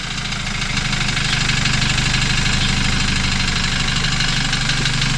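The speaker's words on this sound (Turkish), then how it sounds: "Önden de mübarek traktör gibi çalışıyor böyle boştayken." A damaged BMW F30 328i engine idles roughly and loudly nearby, shaking like a tractor, with a steady rumble and a rattling vibration that never settles.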